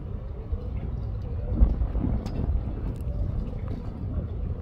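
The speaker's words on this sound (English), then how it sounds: "And the wind is blowing." Wind gusts over hills in the Abacos, Bahamas, a steady broadband rush with a brief buffeting swell at the microphone, continuous and moderately loud with no voices.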